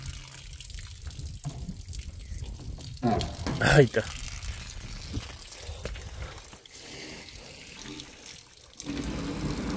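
Water gurgles and splashes out of a hose fed from an outdoor tap beside trucks loading a tractor and combine harvester, irregular and mid-distance, with a voice speaking briefly over it.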